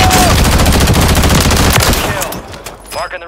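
The MCW rifle in a first-person shooter game fires a loud, rapid automatic burst for about two seconds, then stops, leaving a few faint trailing clicks.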